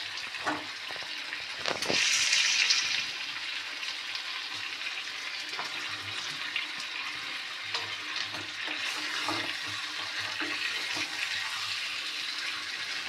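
Potatoes tipped into a pan of meat curry give a louder burst of sizzling near the start, then steady frying and occasional stirring scrapes continue close by with no voices.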